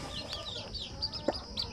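A Basilan native hen at a new nest clucks a few times, soft and close, with faint chirps of chicks around her and a low background murmur.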